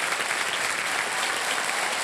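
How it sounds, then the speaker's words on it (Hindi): Studio audience applause on the KBC Season 15 game show set, a dense, steady wash of clapping hands that holds at full volume throughout with no voices over it. "ताली बज जाए इनके लिए।"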